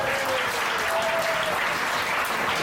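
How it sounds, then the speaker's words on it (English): A comedy club audience in Huddersfield applauds steadily, a dense, even wash of clapping that fills the whole stretch without letting up. "Give Joe a round of applause."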